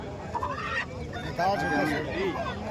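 A country rooster at the native chicken market in Chintamani gives several clucking, warbling calls over a murmur of market voices and nearby bird noise.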